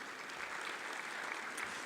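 Applause from an audience at the January 2022 inauguration of the Lokrang and Ravindra Sabhagam Kendra in Chhattisgarh, a steady dense clapping that holds at a moderate level throughout.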